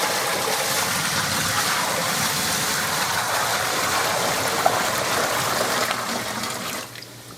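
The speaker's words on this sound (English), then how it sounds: "So next goes in the water. This is 5 gallons of hot water." Five gallons of hot water pour steadily into a bucket for an apple brandy mash, a close, continuous rushing splash that holds level for several seconds before tapering off near the end.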